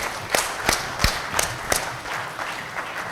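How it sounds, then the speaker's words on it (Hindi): An audience gives a short round of applause during a talk on public speaking, with several distinct sharp claps standing out over a steady patter of many hands, fairly close. "जोरदार तालियां अपने लिए"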